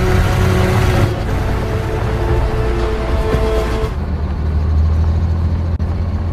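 A military truck in a combat film drives along with a loud, steady low engine rumble and road noise, the tone shifting partway through and continuing without speech.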